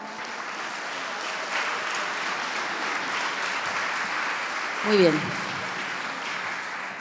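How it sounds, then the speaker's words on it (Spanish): Applause from an audience at a tarot congress in Madrid, a steady even clatter of many hands filling the room, a short voice heard over it near the end. "voy a pedir un fuerte aplauso para Ney"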